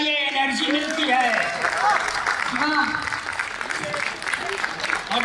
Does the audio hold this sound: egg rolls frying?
no